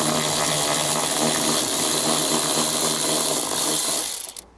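A ratchet works an eight millimeter bolt out of a grounding point on a 2020 Ford Explorer, a loud, fast continuous clicking close up that runs for about four seconds and then stops abruptly.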